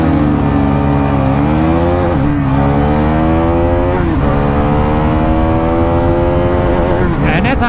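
Bajaj NS400Z and Royal Enfield Guerrilla 450 motorcycles in a drag race, engines roaring loud and close, pitch climbing steadily through the gears with brief dips at the gear changes.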